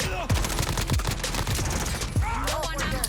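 Rapid automatic weapon bursts in Call of Duty: Modern Warfare, loud dense overlapping shots with bullet-whiz and reload sounds, a voice talking underneath throughout.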